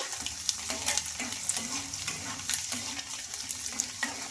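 Garlic cloves frying in hot oil, a steady close sizzle with light scraping stirs recurring every half second or so throughout, no voices.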